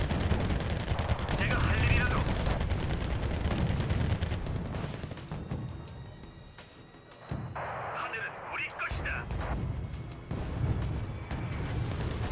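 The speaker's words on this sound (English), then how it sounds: "Okay, bombing run needed." A bombing run in the Wargame strategy game brings rumbling explosions and bursts of gunfire, a dense continuous battle din that dips briefly in the middle before resuming under game sounds.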